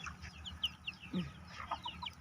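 Hens cluck softly in short, repeated bursts nearby, with a steady low background hum.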